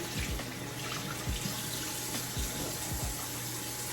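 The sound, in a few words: tap water wetting a towel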